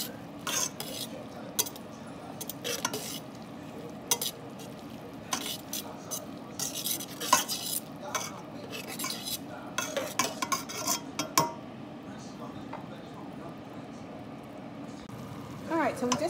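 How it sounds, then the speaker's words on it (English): Greens and onions are stirred in a pot, with a spoon repeatedly scraping and clinking against the metal under a low background hum and a faint sizzle, and scattered bursts of scraping through most of the stretch. "All right, so we have the greens with the onions. Stir those up."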